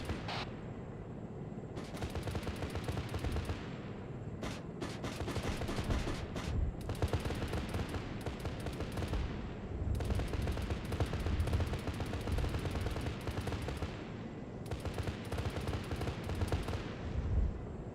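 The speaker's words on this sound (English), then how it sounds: "Oh, I like the chain gun, man." A gunship's chain gun firing in Arma 3, loud sustained bursts of rapid fire broken by short pauses, with no talk.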